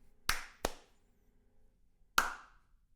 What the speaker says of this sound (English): Ooh, we can sync the audio to the video. Clap.